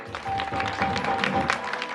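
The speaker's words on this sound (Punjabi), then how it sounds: "ਇੱਕ ਵਾਰੀ ਤਾੜੀ ਮਾਰੋ ਆਪੋ ਆਪਣੇ ਨਾਲ ਦੇ" A gathered congregation at a Punjabi religious event claps together, a dense, steady wash of many hands at moderate loudness lasting throughout.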